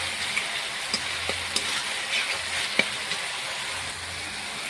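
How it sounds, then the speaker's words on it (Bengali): Spice paste with turmeric and Kashmiri red chili powder frying in a pan, a soft continuous sizzle with occasional sharper crackles and spatter pops, close and fairly quiet with no talking. "মশলাটা সুন্দর করে কষিয়ে নেব"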